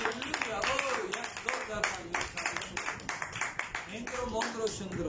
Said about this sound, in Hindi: तो हम मिलकर तालियों के साथ उसको वेलकम करें